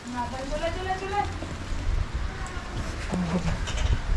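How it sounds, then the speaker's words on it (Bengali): Rain patters steadily outdoors as a soft, constant wash, with people talking over it. "বৃষ্টি পড়ছে তো ওখানে"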